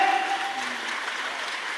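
A crowd at a roadside wari kirtan applauds, a dense, steady clatter of many hands following a short ringing tone at the start.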